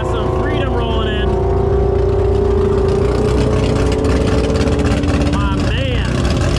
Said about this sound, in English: Yeah, super interesting sound from that car.